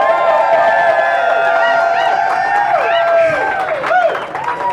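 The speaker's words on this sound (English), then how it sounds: "Could everybody just give me a round of applause to cheer me on?" An audience in a comedy venue gives a round of applause mixed with cheering and whoops, a steady dense crowd noise held loud throughout.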